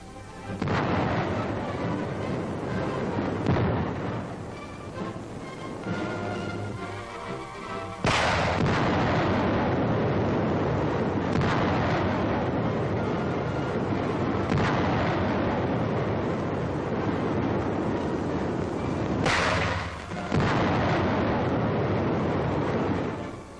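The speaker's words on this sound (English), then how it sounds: "The final phase of the test is firing the same number of high explosive filled rounds at the figures in an attack formation." High explosive artillery shells from a 1943 War Department test burst against figures in attack formation, a loud, continuous roar of blasts with sharper impacts near 8 and 19 seconds, no voices present.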